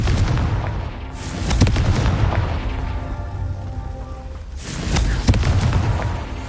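Blasting-spell explosions in the video game Hogwarts Legacy, two loud booming bursts near the start and again around the five-second mark, with rumbling tails between them and no talking.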